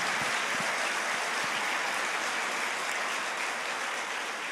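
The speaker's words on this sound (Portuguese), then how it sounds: "Pode aplaudir." A church congregation claps in a continuous wash of applause, fairly distant and uniform throughout with no voices.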